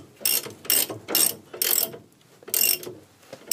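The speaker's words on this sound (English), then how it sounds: "You have to take the bolt off." A ratchet wrench loosening a bolt on a Triumph TR4 front suspension, five loud close-up bursts of rapid clicking separated by short pauses.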